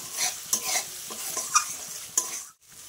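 A spatula scrapes and stirs spice masala frying in oil in a pan for Bengali egg curry, soft sizzling under irregular scraping strokes and light clinks against the pan, close and fairly quiet.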